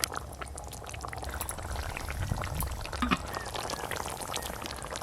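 Fish curry gravy with golden pomfret bubbling in a pot, a dense steady close boil with soft gurgling pops, without any speech.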